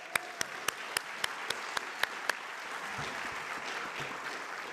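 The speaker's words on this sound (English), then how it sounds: "I want to give another round of applause to this incredible band" Audience applause for a jazz trio at a county government State of the County event, a steady dense wash of clapping with a few sharp louder claps near the start, moderately distant and continuing throughout.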